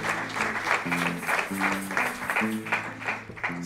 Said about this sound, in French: On peut applaudir cette réponse.